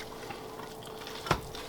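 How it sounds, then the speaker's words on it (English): Egg and parmesan being stirred into hot pasta in a pan, a soft wet sizzling shuffle with one sharper scrape of utensil against the pan, close and quiet. "we are going to stir this all around in our pasta"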